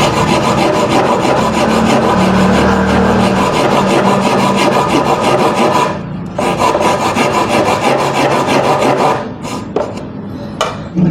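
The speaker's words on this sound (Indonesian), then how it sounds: "Sekarang kita gunakan gergaji yang matanya kecil-kecil atau pendek-pendek." A hand saw with small, short teeth cuts through wood in fast, steady rasping strokes, loud and close. The sawing runs almost continuously, with two brief pauses near the end.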